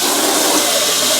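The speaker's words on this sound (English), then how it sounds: "Add a little water to them." Water is poured from above onto plain canned cut green beans in a pan, a continuous loud splashing rush that holds steady throughout.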